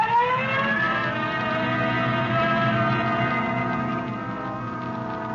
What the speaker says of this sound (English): red light and siren